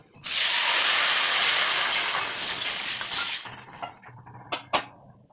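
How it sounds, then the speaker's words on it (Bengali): Water poured into a hot pan for vegetable dal meets the oil with a loud, sudden hiss of steam that holds for several seconds, then fades into scattered sputters and a few clinks. "এবার দিয়ে দেবো জল"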